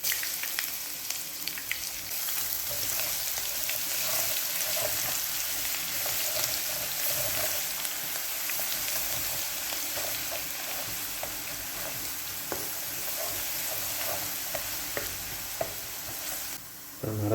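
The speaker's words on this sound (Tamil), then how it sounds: "கடுகு, உளுந்த பருப்பு கலந்தது, கடுகு பொரிஞ்சு காஞ்ச மிளகாய் சேர்த்துக்கலாம்." Mustard seeds, urad dal and dried red chillies crackle and sizzle in hot oil for tomato rasam, a steady dense frying hiss with scattered sharp pops throughout, close and continuous.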